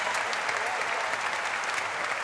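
A studio audience at a TV diving-competition show claps steadily and densely, a continuous wash of applause at moderate loudness throughout.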